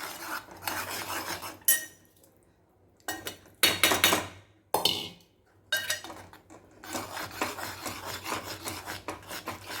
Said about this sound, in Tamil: அதை ஆஃப் பண்ணிவிட்டு ஏலக்காயை போட்டுட்டு, இந்த ஏலக்காயை போட்டுருங்க. கொஞ்சோண்டு நெய் விட்டுட்டு இந்த மாவை போட்டு நல்லா கலரிடுங்க.